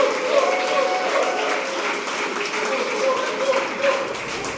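A crowd claps and cheers at a live Warcraft III grand final esports event in Dortmund, a steady roar of applause heard under an announcer's voice.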